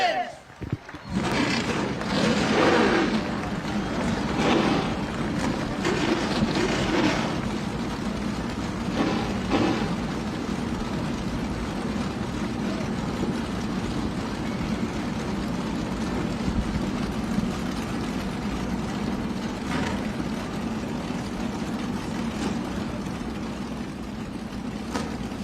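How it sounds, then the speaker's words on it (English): A field of NASCAR Whelen Modified race cars at Jennerstown Speedway fire up and rumble together in a dense, loud engine roar that holds steady throughout, with talk heard over it. "The field of NASCAR Whelen Modifieds has roared to life for the second running of the Jennerstown Salutes 150"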